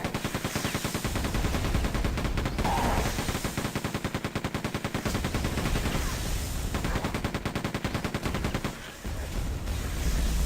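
Machine gun fire in the video game Quake 2, a loud continuous rapid-fire stream of shots that runs nearly unbroken for about ten seconds, with a brief stutter near the end.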